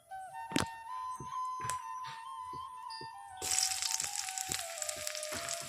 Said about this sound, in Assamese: আৰু এতিয়া তেলখিনি গৰম হৈছে, মই পিঁয়াজখিনি ভাজি ল'ম।